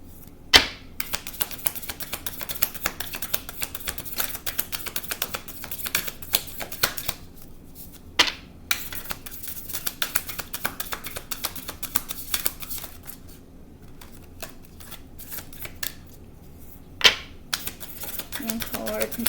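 A tarot deck is shuffled by hand in rapid, steady riffles of card clicks, with a few louder slaps where cards are cut or drawn to pick one card.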